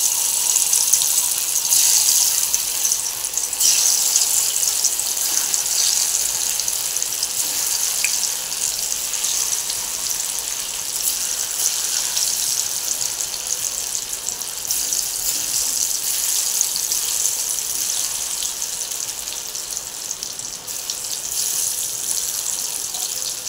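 Spice-marinated soybean chunks deep-frying in hot oil until crispy, giving a steady, loud, even bubbling hiss that runs unbroken throughout with no talking.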